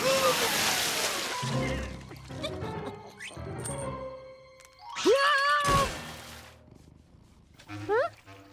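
Water splashing and sloshing in a cartoon bathroom scene, wet bursts mixed with squeaky cartoon sound effects and animated character voices talking throughout.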